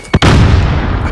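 A frag grenade detonates in a video game match: one loud, close boom with a sharp attack that rolls into a sustained rumble filling the rest of the moment, no talking over it.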